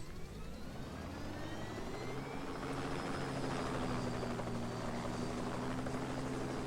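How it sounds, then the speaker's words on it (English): Helicopter in the video game Just Cause 2 with a loud, steady rotor and engine drone, a continuous whine with rhythmic blade chop that holds level throughout, no talking. "Just let him crash into the helicopter."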